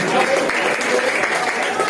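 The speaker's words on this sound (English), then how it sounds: "Come on, give them a round of applause, guys." An audience claps at a boxing weigh-in in Cork, giving a brief burst of dense, lively applause with voices mixed in.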